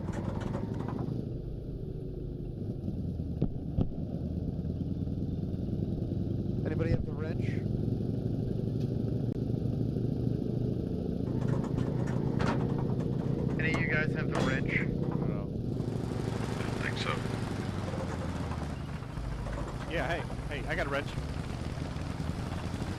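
A tank engine in the Post Scriptum war game runs as a steady, loud mechanical drone with shifting rattles and whines, while players talk over it throughout.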